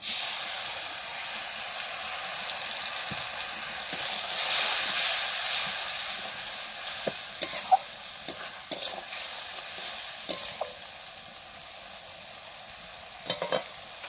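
Spices soaked in water (chilli, turmeric, cumin and coriander) go into a pan of boiled potatoes, giving a steady close sizzle and hiss with occasional stirring clinks and scrapes over about fourteen seconds.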